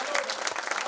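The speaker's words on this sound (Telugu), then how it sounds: "మీరందరూ కూడా చప్పట్లు కొట్టాలి" An audience at a religious discourse on Rama's coronation breaks into brief, dense clapping, a quick burst of many hands close together.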